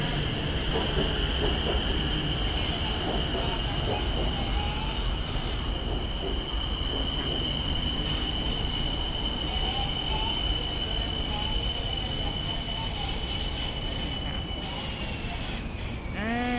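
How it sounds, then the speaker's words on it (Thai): A BTS Skytrain rumbles steadily on elevated tracks with a high sustained tone, brakes squealing near the end as it pulls into Chit Lom station in Bangkok from Siam; faint voices underneath. "มีรถไฟฟ้ามาแล้วนะคะจากสถานีสยาม จะเข้าชิดลมแล้วค่ะ"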